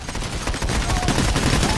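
Gunfire from the video game Payday: The Heist crackles in a dense, rapid burst of shots, loud and continuous across the short moment, with no voices over it.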